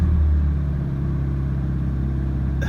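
A Pontiac Fiero engine idles steadily close by after repairs, a constant low hum with a faint mechanical clatter and no speech.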